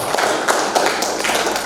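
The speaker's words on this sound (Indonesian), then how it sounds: "Kita tepuk tangan dulu untuk kita semua." An audience at a spiritual talk on St. John of the Cross claps hands together in a brief, close burst of overlapping claps.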